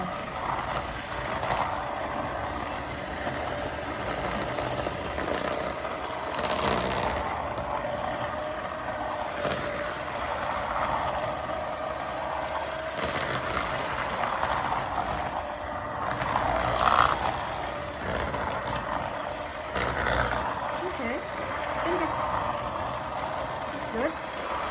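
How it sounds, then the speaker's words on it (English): A kitchen mixer runs steadily as it churns a heavy, thick food mixture, a continuous mid-pitched motor drone with a few louder surges, while people talk nearby. "Okay, let's do the mixer."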